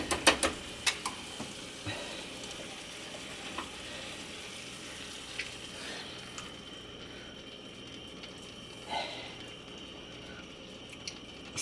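Brown gravy goes into a hot pan of cubed steak and mushrooms: a few sharp clatters at first, then a soft, low, continuous sizzle and bubbling, fairly faint, with no voices.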